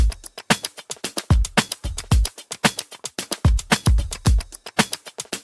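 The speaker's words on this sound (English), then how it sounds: "So all the drums together sound like this." A full drum loop plays on its own, with punchy kicks, snappy hits and busy percussion in a tight, repeating groove.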